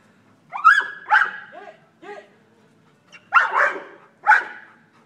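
A dog plays tetherball and barks excitedly in a quick run of three or four yelps and barks, goes quiet, then gives two louder barks. The barks are close and clear, with no talking.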